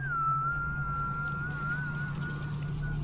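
A thin, steady whistled tone holds a nearly level pitch with slight wavers, over a low hum and quiet background, from the video game Dishonored 2.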